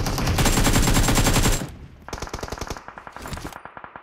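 Automatic gunfire in the battle-royale shooter PUBG during a 4v4 match: a dense, loud sustained burst of rapid shots, then after a brief lull a quicker rattle of distinct, evenly spaced rounds with a short final burst.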